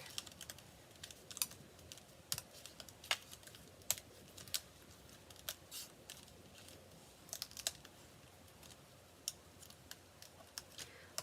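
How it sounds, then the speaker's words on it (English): Carrier sheet being peeled back from a paper craft die-cut: faint, close crackles and small ticking snaps scattered over the whole stretch, quiet and irregular, with no voices. "Then you can go ahead and peel the carrier sheet back."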